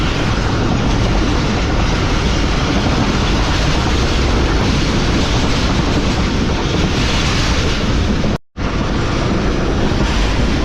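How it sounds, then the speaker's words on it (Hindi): Karachi Express train running at speed toward Multan after Lodhran Junction in heavy rain, a loud continuous roar of wheels and rushing air with wind buffeting, steady throughout apart from a brief dropout near the end. "तो कुछ इस तरह की स्पीड में ट्रेन जो है वो आगे बढ़ रही है मुल्तान की तरफ।"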